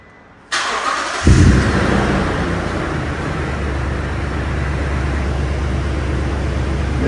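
A car with a newly installed exhaust starts up after a moment of quiet, catching with a loud burst, then settling into a steady, close, low exhaust rumble at idle.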